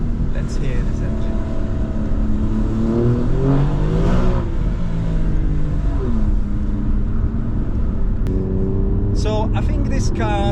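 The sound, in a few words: Alfa Romeo Giulia Quadrifoglio engine revving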